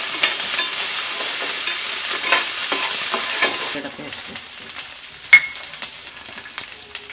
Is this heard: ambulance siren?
no